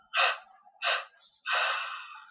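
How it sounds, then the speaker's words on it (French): A person exhales through the nose in three separate breaths during guided meditation: two short puffs followed by a longer, trailing release, close and clear with no talking. "On expire en 3 fois."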